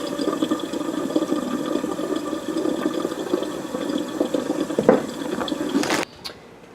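Hot water runs steadily from a kitchen tap over thawed tomatoes, a continuous close splashing with brief louder surges, then cuts off near the end.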